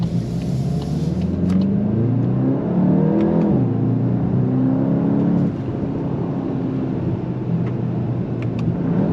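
2025 VW GTI Mk 8.5 accelerating on throttle, heard from inside the car, with a steady engine drone that rises in pitch through a gear, eases and builds again under road rumble, accompanied by a few faint clicks.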